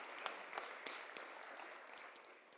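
Faint audience applause at a mayoral candidate youth forum at Green Street Academy in Baltimore: scattered, soft clapping with a few sharper claps standing out, fading toward the end.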